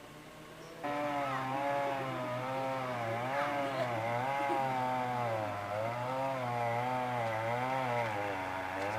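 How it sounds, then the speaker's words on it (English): A chainsaw saws wood into boards outdoors in Chiapas, starting after a brief quiet moment and then running loud and steady, its engine pitch rising and falling in a slow wavering rhythm as the blade works through the log. "They saw the wood with a chainsaw"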